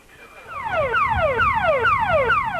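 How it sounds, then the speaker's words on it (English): A repeating electronic alarm of rapid descending sweeps, cycling about every half second, loud and steady over a low background rumble. "This is the sound of danger a plane might send out in the event of an accident,"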